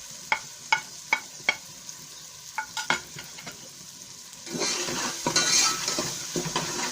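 A spoon clinks sharply against a pan several times, then turmeric roasting with tomatoes for bitter gourd sabzi breaks into a soft sizzle over low heat, with more scraping and tapping as it is stirred.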